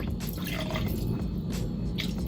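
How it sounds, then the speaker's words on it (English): Vinegar trickles and drips into a bowl of water for cleaning oxtail, a close, steady liquid patter with small splashy bursts, alone without talk. "I'm just gonna add my vinegar into the water"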